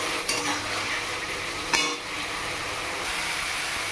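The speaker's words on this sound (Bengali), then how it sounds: "তো আলুটা এবার একটু ভালো করে কষিয়ে নিই।" Potatoes are sautéed in oil for a fish curry, a steady frying sizzle broken by a couple of sharp spatula scrapes against the pan, with no talking.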